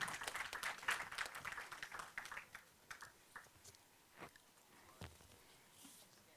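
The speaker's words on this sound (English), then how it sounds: "A warm round of applause," Scattered applause from a conference audience at an Islamic economics and finance event, a brisk burst of clapping at first that thins to a few isolated claps, moderately distant and fairly quiet.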